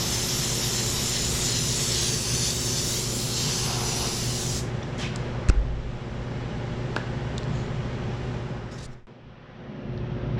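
An airbrush sprays red paint in a steady, close hiss that cuts off midway, followed by faint clicks and handling noises over a low background hum, with no talk.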